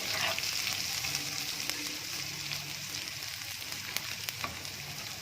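Garlic, cumin, ajwain and spices fry in hot oil with a steady, dense sizzle throughout, with a few faint clinks and stirring noises over the crackle.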